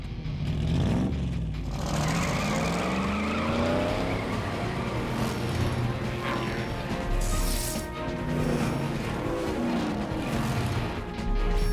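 Cartoon race cars with twin carburetors speed along, a loud continuous engine roar with rising and falling revs and tire squeals throughout, no talking.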